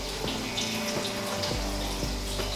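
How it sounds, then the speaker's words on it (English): Blackberries and raspberries rinsed under a running kitchen tap in a college kitchen while making French toast; a steady, close water stream with faint patter of fruit under the flow, no talk. "First, we're gonna wash our fruit."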